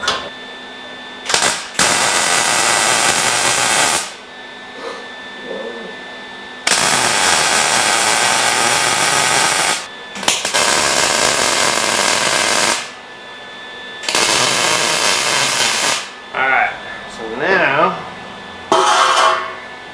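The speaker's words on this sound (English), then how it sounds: "We're just tacking right now until we know she fits" Tack welding on a steel rolling stand built for a Mr. Heater, in loud, harsh crackling bursts lasting a few seconds each, separated by short quiet gaps, close to the microphone.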